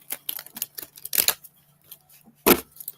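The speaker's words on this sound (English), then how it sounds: "One more shuffle." Oracle cards being shuffled by hand, giving a quick run of dry papery riffles and slaps that break off, then one sharp louder snap near the end, close to the listener with no voice over it.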